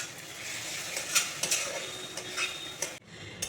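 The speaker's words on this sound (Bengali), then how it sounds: "বড় চামচে 2 চামচ টক দই দিয়ে দিচ্ছি।" Sour yogurt goes by large spoonfuls into hot oil in a pan for doi katla, giving a soft steady sizzle with a few sharp spoon clinks and scrapes close by.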